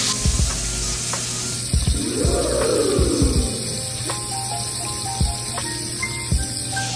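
Steak sizzles steadily in a hot pan after being flipped, a continuous close hiss broken by sharp clicks and knocks of handling, with no talking.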